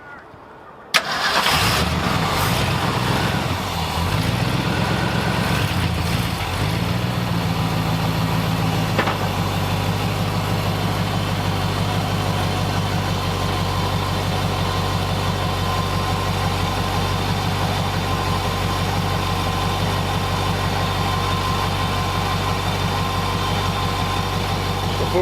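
A 1966 Ford F250 truck cranks and fires with a sudden start, then settles into a steady, even idle that drones on close by without interruption.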